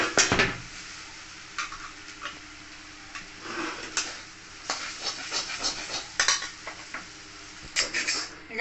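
Ground puffed rice tipped into a pan and stirred while preparing a Radhaballavi filling, with scattered scraping and clinking of a spatula against metal in irregular bursts, moderately close, no talking.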